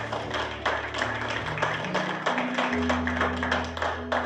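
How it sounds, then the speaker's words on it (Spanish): A church congregation claps during a sermon, steady overlapping handclaps rising over a sustained low organ or keyboard chord that shifts pitch. "Denle un fuerte aplauso a Jesús."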